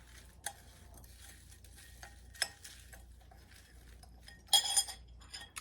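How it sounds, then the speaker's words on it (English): Dried apple slices stirred in a bowl, giving quiet scattered clinks and scraping taps in a near-silent room, with a louder burst of clattering near the end. "we're going to just give this a bit of a stir"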